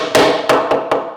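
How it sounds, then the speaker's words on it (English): Wooden dowel being hammered into a staircase, four sharp, loud blows in an uneven rhythm, each ringing briefly before the next strike, with no talking. "I'm listening for a kind of change in the tone of this dowel as it hits the other side"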